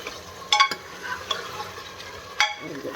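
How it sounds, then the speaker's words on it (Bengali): Chicken pieces being stirred in an oily pan with a spoon while curry cooks, soft sizzling under a few scraping clicks of utensil against the pan. "এই যে মাংসটা দিয়ে দিয়েছি, এখন ঘুটে দেয় ভালো করে"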